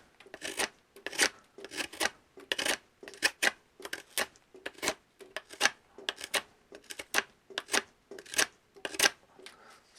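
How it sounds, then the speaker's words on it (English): A Spyderco Tenacious knife shaves wood off a stick in quick, rhythmic rasping strokes, about two per second, close and crisp, each one a short scraping burst with brief gaps between, with no voices. "let's just show you what it looks like cutting some wood here, shaving some wood off this this stick"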